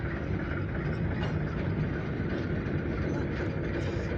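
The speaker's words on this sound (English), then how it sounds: "Got a big grain hopper train right now." A long freight train of grain hopper cars rumbles past, a steady, dense low roar with faint rattling, sustained and fairly near without a break.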